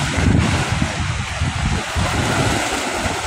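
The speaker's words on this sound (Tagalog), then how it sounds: "Kapag sumalpok po yung alon sa dike" Big waves slam into the Manila Bay seawall, a loud, close roar of breaking water with a strong surge early on, wind noise rumbling underneath.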